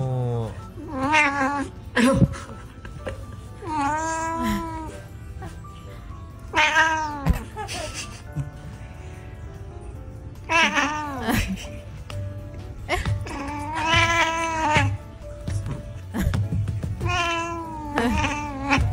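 A cat being teased meows and caterwauls repeatedly in loud, drawn-out, wavering cries, close by, with people talking over and between the calls.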